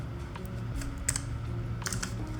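Close, quiet computer keyboard keys pressed in a quick irregular run, with a few sharper clacks standing out over a steady low hum.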